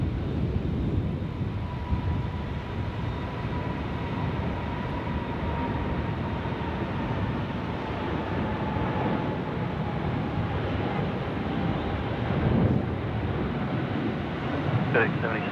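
A large airliner rumbles in to land on runway 34 left at Sydney Airport, a broad steady engine roar with a faint whining tone that runs the whole time, with radio talk over it.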